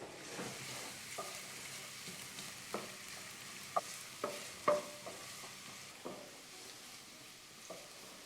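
Chopped vegetables sauté steadily in a pot while a spoon scrapes and clacks against the sides, giving a string of irregular knocks over the constant hiss.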